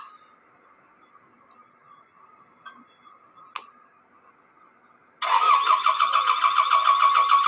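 A few faint clicks and a brief crank give way to an engine catching and settling into a loud steady idle close by.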